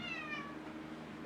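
A single cat meow, close and clear with a falling pitch, fading out over about a second against a quiet indoor room.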